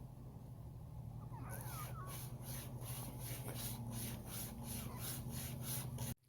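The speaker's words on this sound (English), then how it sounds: "I've cut enough to know that this thing is about as good as any of the small saws I've ever seen" A small saw from a British survival kit cuts wood in quick, regular back-and-forth strokes about twice a second, close and rasping over a low steady hum, starting after a quiet moment and stopping abruptly.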